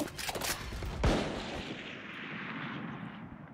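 A grenade goes off in a first-person shooter game with a sharp, loud blast followed by a long, fading rumble.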